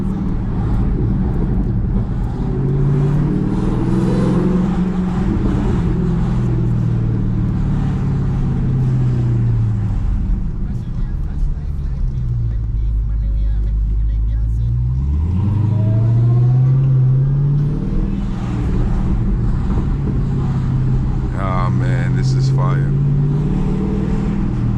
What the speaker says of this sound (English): A few little burbles, but nothing crazy.